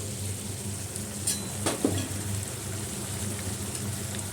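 Garam masala dropped into a dish frying in a pan sets off a continuous, close sizzle, with a couple of brief scraping clinks from stirring.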